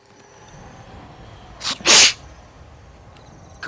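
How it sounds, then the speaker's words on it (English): A single loud, close sneeze bursts out of a quiet room background, a short sharp intake followed by a forceful explosive release. "COVID sneeze."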